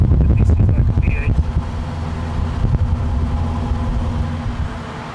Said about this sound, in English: you can hear a little bit that this is like a V8